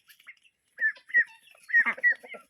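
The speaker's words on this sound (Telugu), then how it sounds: "ఈ రెండు ట్రక్కీ కోళ్ళు, ఇది గిన్ని కోళ్ళు." Turkeys and guinea fowl on a newly started poultry farm give short, close clucks and squawks in uneven bursts, with quiet gaps between calls.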